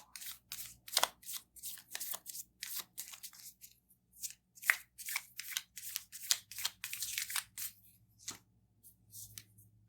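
Tarot cards are shuffled and drawn by hand, making quick repeated papery riffles and slides, close and crisp, in uneven bursts with brief quiet gaps.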